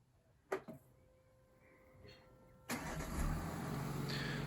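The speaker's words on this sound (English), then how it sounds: "So it's going to fire the car up again." A push-button car fired up by remote start from a Bluetooth app: a couple of short clicks and a beep, a quiet pause, then the engine cranks and catches into a steady close idle.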